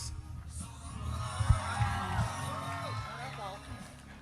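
Crowd at a Bassmaster Elite fishing tournament weigh-in on the Sabine River, cheering and whooping loudly beneath an announcer's amplified voice, with a sharp peak of shouts partway through.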